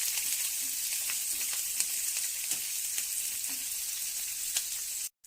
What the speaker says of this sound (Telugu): ఆనియన్ వేసి ఆనియన్ మంచిగా బ్రౌన్ కలర్ వచ్చే వరకు ఇలా కలియపెడుతూ ఉందాము